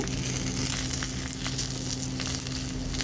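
Bengali-style vegetarian paneer paturi fries in a pan, a dense, continuous loud sizzle crackling evenly throughout with no voices.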